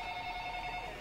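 Telephone ringing indoors, a continuous electronic ring tone heard faintly and briefly with no voices.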